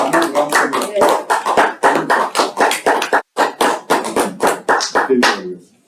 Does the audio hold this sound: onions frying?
no